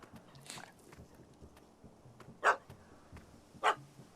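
In the video game The Witcher 3, a dog barks at a cat up a tree, two sharp distant barks standing out from a quiet ambient background.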